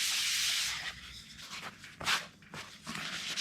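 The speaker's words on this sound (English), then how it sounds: "I'll be able to sand that a little bit before I polish it" Hand sanding the filled, smoothed surface of a REO F20 Spartan Series 700 pedestal light before polishing: close, loud abrasive rubbing strokes, a long steady pass followed by several shorter scrubbing bursts, with no voices.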